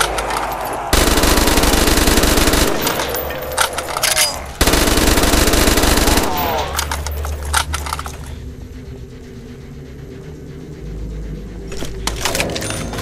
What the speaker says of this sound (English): Nothing like an SMG.